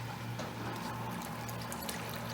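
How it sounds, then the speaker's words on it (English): A submersible pump runs while flushing a tankless water heater, giving a steady, continuous rush of circulating, pouring water with a low hum underneath, fairly loud and unbroken throughout. "plug in your submersible pump so it starts pumping."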